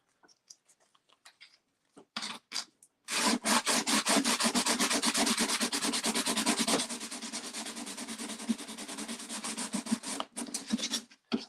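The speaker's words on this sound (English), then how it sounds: "So now when I sand this, it should be even smoother than I anticipated." Sandpaper rubbing over putty on a tugboat model, starting with a few light scratchy strokes and then settling into a steady rapid back-and-forth rasp, close and clear with no talking.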